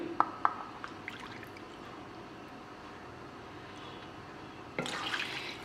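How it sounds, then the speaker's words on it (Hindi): Half a cup of milk poured into chocolate cake batter in a home kitchen, giving a soft liquid trickle after a few small clinks, then a brief louder splash near the end. "और साथ ही इसके अंदर मैं 1/2 कप दूध डालूँगी।"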